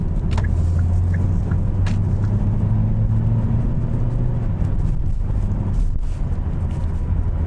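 Steady engine and road rumble from inside a 2019 Hyundai Sonata 2.0 gasoline cruising at moderate-to-high speed, a constant low drone with occasional faint ticks.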